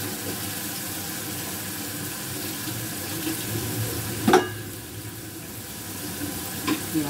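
Potatoes frying in hot ghee and oil for kofta aloo, a steady broadband sizzle with one sharp clatter near the middle and a few small knocks later, fairly close and with no talk.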